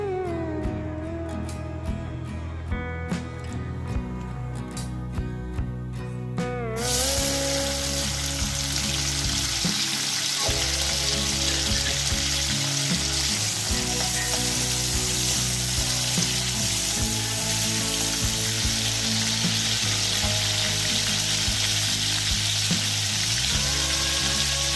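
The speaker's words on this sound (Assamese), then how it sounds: "গৰম কেৰাহীত আমি দি দিছোঁ ৰিফাইন তেল" Fish fries in refined oil in a hot wok, a loud, dense, continuous sizzle that starts abruptly after several seconds of tonal sound and then carries steadily to the end.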